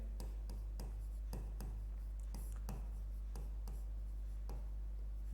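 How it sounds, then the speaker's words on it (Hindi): Pen or chalk scratches out notes in quick, rhythmic strokes with short pauses, close and fairly quiet, during a Hindi history lesson on the Indus Valley Civilization. "तो पहला अपन लिखते हैं गार्डन चाइल्ड"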